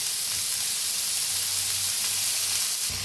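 Garlic and ginger with tomato sizzle steadily in hot oil in a pan, a constant dense hiss with faint stirring underneath.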